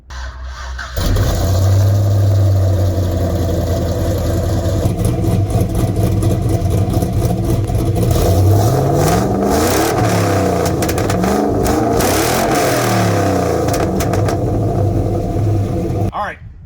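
A Ford Crown Victoria V8 fires up and revs hard, its loud, rough exhaust roar rising and falling through several throttle blips before settling and cutting off, close and continuous.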